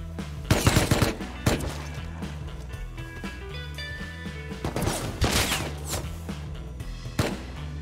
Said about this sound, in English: I'm hearing like every gun in the book.